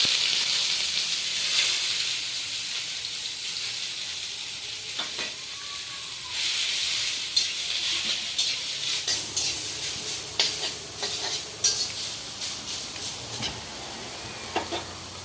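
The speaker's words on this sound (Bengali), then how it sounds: "বন্ধুরা আমি কড়াইতে দিচ্ছি সর্ষের তেল দিয়ে এই লাউ পাতাগুলো আমি দিয়ে দিচ্ছি" Bottle gourd leaves fry in mustard oil in a wok, giving a steady sizzling hiss with scraping stirs that become more frequent toward the end, close and fairly loud.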